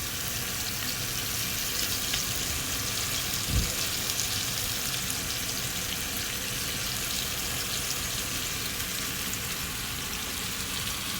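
Beans and carrots stir-fry in a pan for chicken egg fried rice, a constant close hiss of sizzling with one brief low thump partway through and no voices.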